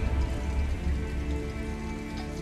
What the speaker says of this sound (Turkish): Yağmur yağıyor yani aşkım.